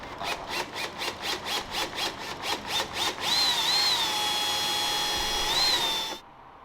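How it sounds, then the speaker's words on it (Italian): Power drill boring holes through a camper for cable runs, first in a rapid series of short pulsed bursts, then a steady sustained whine with a faint squeal before it cuts off abruptly. "adesso iniziamo a forare per il passaggio dei cavi"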